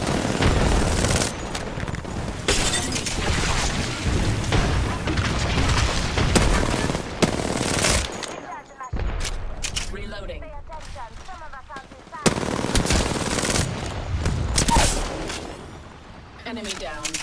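Rapid bursts of video game gunfire and booming explosions fill most of the stretch, loud and close, with a frag grenade blast among them and a brief quieter lull midway before shooting resumes.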